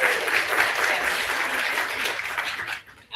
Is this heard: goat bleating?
no